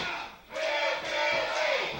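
Wrestling crowd chanting in rhythmic waves, a loud dense chorus of many voices rising and falling in repeated phrases.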